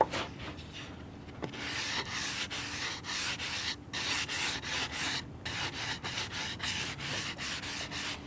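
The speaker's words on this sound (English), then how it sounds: "So here goes that sanding sponge." Sanding sponge rubbed back and forth along wood edge banding in finish carpentry, a series of rhythmic raspy strokes with brief pauses between passes, close and fairly loud.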